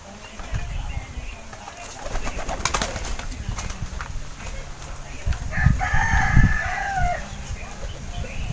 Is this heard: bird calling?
yes